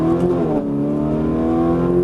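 Ferrari 458 Italia engine accelerating onto a racetrack, a close, loud, rising harmonic drone with a brief dip around an upshift, continuous and without talk.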